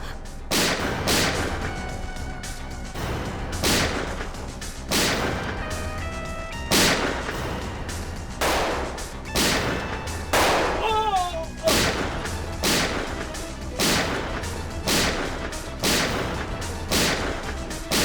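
Loud gunshots ring out in a steady, rapid series of sharp cracks over a constant rumbling background, with one brief whistling streak midway.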